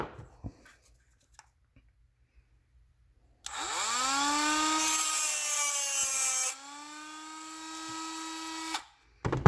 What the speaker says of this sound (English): So I'm going to grind the whole cap off before it pops off.